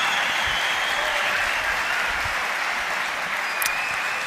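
Sustained audience clapping fills a large hall at the WRO International Final 2022 robotics event, an even, dense wash of applause with a brief whistle near the end.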